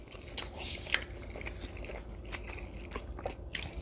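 Someone chews Greek food skewers up close, with soft wet crunches and bites scattered irregularly over a few seconds, plus a sharper bite near the start.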